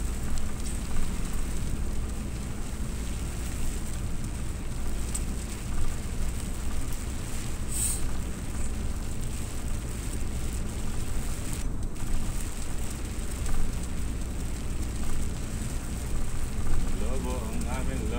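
Heavy rain pours down steadily over a tarp-covered boat on the water during a downpour, a dense, constant broadband hiss at the same level throughout, with a few brief brighter splashes and no clear voices.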